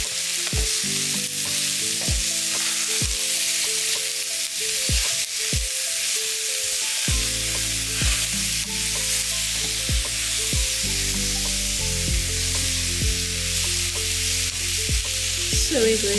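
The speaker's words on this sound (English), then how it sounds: "And then I'm going to add our onions. And we stir." Onions sizzle loudly in a hot pan alongside beef for a curry, with a steady frying hiss and repeated sharp scrapes and clinks from stirring throughout, no voices.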